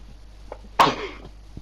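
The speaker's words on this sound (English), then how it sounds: "because I need to sneeze" A single sharp sneeze bursts out close to the mic, loud and brief, with quiet room noise before and after.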